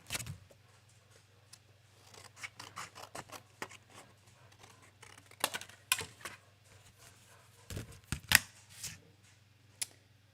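Scissors cutting paper for a handmade birthday card, a series of crisp snips and rustles of paper being handled, close and intermittent over a low steady hum.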